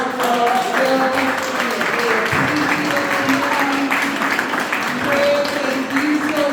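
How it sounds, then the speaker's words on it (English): Audience applause at a Holbrook Woodstock gathering, a continuous crowd clapping that mixes with voices and cheering, steady and moderately loud throughout. "I know we can get a little bit louder applause for ourselves."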